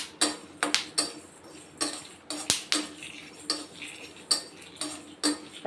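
Black pepper and cumin seeds dry-roasting in a pan over low heat, with a spoon scraping and tapping the metal in a steady series of sharp, close clicks and scrapes.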